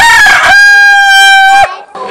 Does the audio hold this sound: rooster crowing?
yes